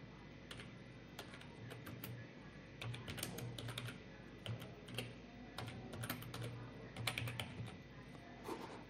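Rapid keystrokes on a computer keyboard as a search is typed into the Upwork freelancing site, an uneven stream of close, light clicks in bursts over a low steady hum, with no voices.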